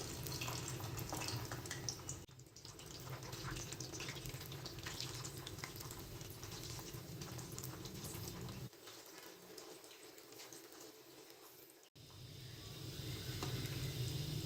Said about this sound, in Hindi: तो अब हम इन्हें मीडियम फ्लेम पे फ्राई करेंगे।